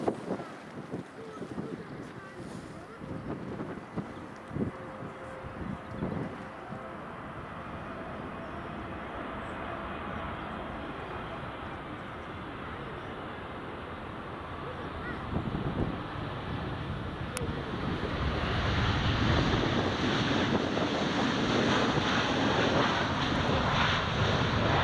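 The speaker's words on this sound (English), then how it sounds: "now we've got a British Airways coming in from London City." A British Airways airliner arriving from London City at Edinburgh Airport roars in on approach, engine noise swelling steadily louder toward the end amid wind buffeting on the microphone.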